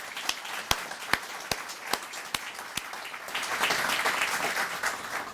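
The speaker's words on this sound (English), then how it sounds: "Can we have a round of applause for those folks?" An audience at a celebratory early college event starts with a few distinct, evenly spaced claps that swell into a fuller round of applause from a roomful of people.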